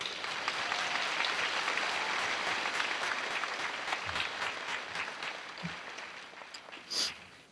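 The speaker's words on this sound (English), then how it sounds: "Let's give ourselves a round of applause, seniors." Graduating seniors at a 2015 Valparaiso commencement ceremony break into sustained applause, a dense crowd clapping that fills the hall and slowly tapers off over about seven seconds, with a few brief voices near the end.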